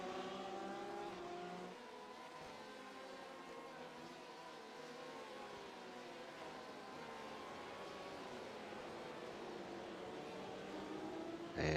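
Race cars, including a BMW and an orange-and-blue Porsche, battle in a GP Performance Series race, their engines droning and shifting in pitch continuously throughout at moderate distance, with no pause.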